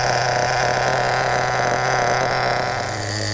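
A small HPI Nitro RS4 RC car nitro engine idles steadily at close range, a dense buzzing drone that holds an even, unbroken level throughout with no revving.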